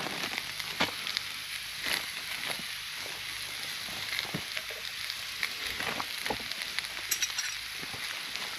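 Steak sizzling and spitting in a hot Firebo cast iron bushcraft cooker outdoors, a steady crackling hiss with scattered sharp pops throughout.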